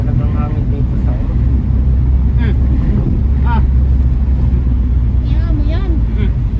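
Strong wind buffets the microphone outdoors near an SM mall, a loud, steady roar with people talking through it.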